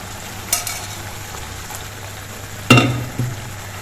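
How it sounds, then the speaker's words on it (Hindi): Cooked lentils are tipped into a pan of butter and masala for dal makhani, giving a soft sizzle under a low hum, with a sharp splash and bubbling burst near the end. "इसमें हम पकी हुई दाल डालेंगे। हमने पका के रखी है दाल, उसको अब हमें डाल देना है इसमें।"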